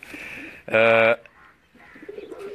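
Heera Lal pigeons of Ustad Safdar's loft give a loud, brief harmonic coo near the middle, with softer bird calls and faint background noise around it.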